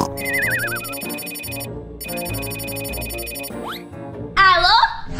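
A telephone rings in repeated electronic bursts as a call to the police is placed, loud and close, with cartoonish sliding sound effects and music over it near the end.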